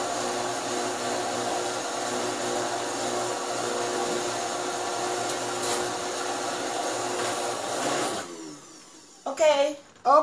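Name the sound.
blender running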